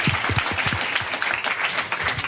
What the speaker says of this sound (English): we owe both Linda and John a round of applause for their input